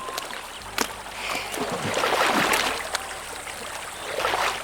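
Flowing stream water in the survival video game Survive the Wild, a continuous broadband rush with a few faint clicks, steady and fairly close.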